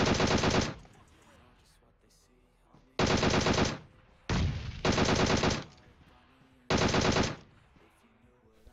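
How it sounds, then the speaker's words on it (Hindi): Automatic gunfire from the PUBG Mobile video game comes in four sharp, loud bursts of rapid shots, each under a second long, separated by quieter stretches of faint game sounds. "दोबारा से यहां पे मैं गोलियां बर्बाद कर रहा हूं"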